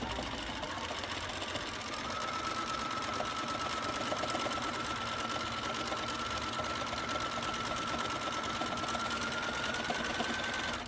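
A sewing machine runs steadily, stitching down the arm of a painted, stamped and stuffed cloth doll, with a continuous mechanical whir and a thin high tone throughout.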